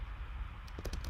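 Brief, faint burst of computer keyboard typing as a file name is entered while saving a project, several quick key clicks near the end of a quiet moment.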